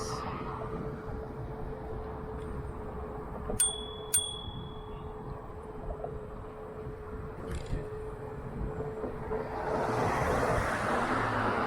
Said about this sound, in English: Let's try the bell on this.